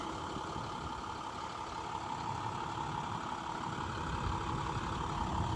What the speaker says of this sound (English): Hard to beat that truck.